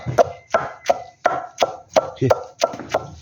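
A pestle pounds curry paste ingredients in a mortar with about eight steady, heavy thumps at an even rhythm, close and loud, with no talking.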